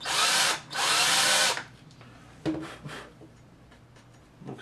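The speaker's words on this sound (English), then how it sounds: "I'm just going to find the end of that with my drill bit, and we'll start drilling." A power drill with a drill bit bores into the metal tuner plate of a Flea ukulele in two loud bursts, followed by quiet ticks and small handling sounds.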